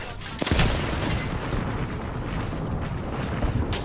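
A new gun fires in Apex Legends, with a sharp shot at the start followed by a dense, sustained roar of rapid gunfire and booms throughout, loud and continuous.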